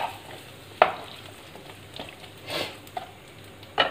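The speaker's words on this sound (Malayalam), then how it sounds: "സവോളയും ഈ തക്കാളിയും കൂടി വഴന്ന് വരുമ്പോൾ അതിന് ശേഷം വേണം നമുക്ക് ക്യാപ്സിക്കം ഇട്ട് കൊടുക്കാൻ." Onions and tomatoes sautéing in a pan for Kerala-style gobi manchurian give a soft steady sizzle, broken by a few sharp scrapes and clinks of a spoon stirring.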